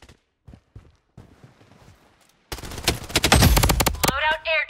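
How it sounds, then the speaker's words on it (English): Gunfire in the Blood Strike shooter game: after some faint scattered taps, a loud close burst of rapid automatic shots erupts and keeps rattling for about two seconds, ending in a whooshing effect. "Taking fire!"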